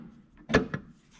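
Fuel filler door on a Ferrari Dino 246 GTS pushed shut by hand, a single short muted knock with a quieter follow-up tap, close up in a quiet setting.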